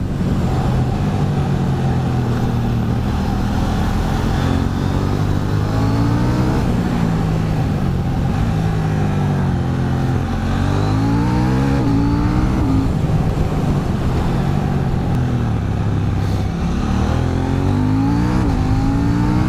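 KTM 790 Duke motorcycle ridden on a mountain road, its twin-cylinder engine droning loudly and continuously, rising and falling through repeated revs and gear changes, with heavy wind rush throughout.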